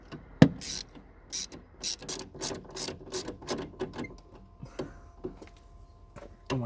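A ratchet tightening parts on a machine during a messy repair, giving bursts of quick clicking strokes and metallic clacks in an irregular rhythm, close and fairly quiet, with no talking.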